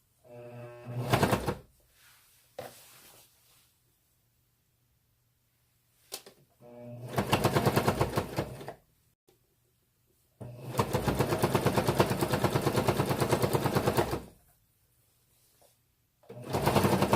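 A sewing machine stitches trim onto a sheet in several bursts of fast, rhythmic needle clatter, one short and three longer runs, separated by quiet pauses.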